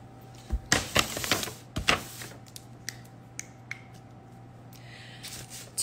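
Keys being typed for a note on a phone or keyboard: a few sharp clustered taps near the start, then sparse isolated clicks, close and fairly quiet against a low steady hum.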